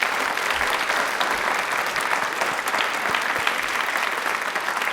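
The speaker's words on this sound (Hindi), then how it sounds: "तो तालियां अपने लिए बजा दीजिए एक बार जोरदार वाली।" Loud, dense applause from a crowd at a quiz event, many hands clapping close and vigorously in a continuous roar that holds steady for several seconds.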